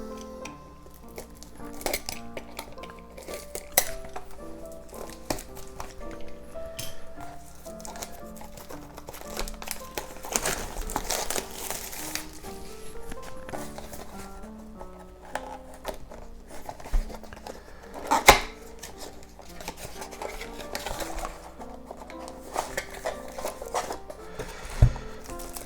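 A Marvel Legendary card game box being unwrapped and opened, with faint, scattered plastic crinkling and small handling clicks over soft background music.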